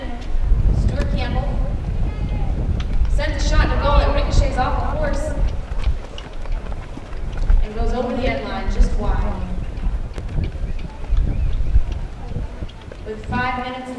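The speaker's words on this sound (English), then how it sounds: "Stuart Campbell taps the ball onto the defender's horse" Horse hooves clip-clop and pound across the field during a polo match, a steady galloping beat beneath continuous loud commentary from an announcer.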